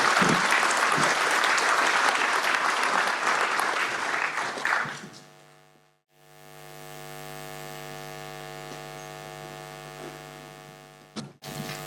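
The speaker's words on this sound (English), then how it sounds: "Everybody give Andrew a massive round of applause." An audience at an accordion band's 75th anniversary event gives a big round of applause that is dense and steady for about five seconds, then dies away, leaving a loud mains hum from the PA system.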